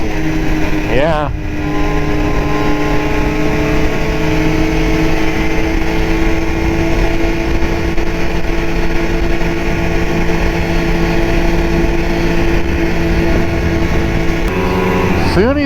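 Arctic Cat snowmobile engine with catalyst trouble after 500 miles, a loud steady idle-like drone with strong harmonics, rising briefly near the start and again at the end as the throttle eases off, with a voice speaking over it.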